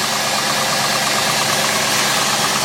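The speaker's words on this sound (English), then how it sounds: "Very nice running motor." A motor idles loudly and steadily close by after a cold start, with a faint rhythmic ticking from the cold engine running under the even drone.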